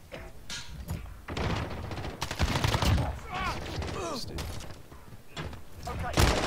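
Rapid gunfire from a Call of Duty: Modern Warfare multiplayer match, bursts of shots with explosions mixed in over a busy game soundscape, while a player talks and laughs over it.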